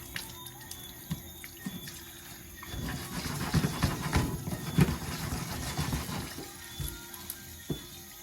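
Water is poured over washed rice in a pot outdoors, a soft splashing and trickling that swells in the middle and then tapers off, with a few drips.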